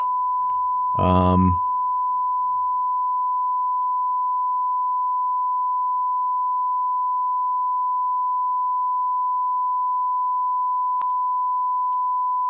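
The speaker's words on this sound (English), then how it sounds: "Let's do a sine wave." A steady, pure electronic tone holds unbroken at one pitch for the whole stretch, after a brief word spoken at the start.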